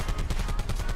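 A gun in Black Ops 4 fires through a wall, a rapid, loud stream of close shots in quick rhythmic succession filling the whole second.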